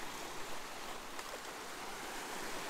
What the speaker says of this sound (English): these waves probably aren't helping with camera shake at all